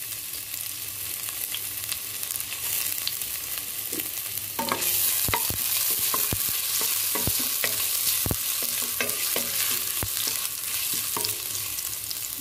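Ginger sizzles as it is sautéed in a pan for beef rendang, a steady frying hiss that grows louder midway, broken by sharp clicks and scrapes of a utensil stirring against the pan.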